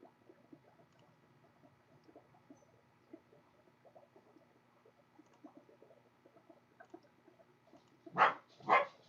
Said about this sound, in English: Why are we barking?